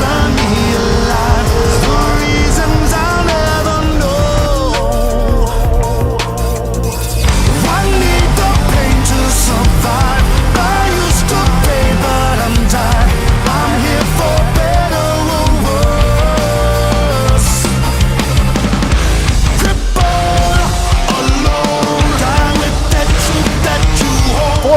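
Rotax racing karts battle for second place on a track near the final lap, their high-revving engines whining loudly and continuously with rising and falling pitch as they jostle close together.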